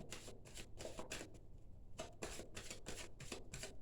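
Oracle cards being shuffled by hand in a steady series of quick riffling bursts, crisp and close, pausing briefly midway before resuming at the same brisk rhythm, with no talking.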